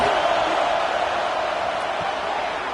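Steady, dense stadium crowd roar from a Madden/NCAA football video game, a broad continuous wash of cheering that holds at an even level throughout, with no distinct voices standing out.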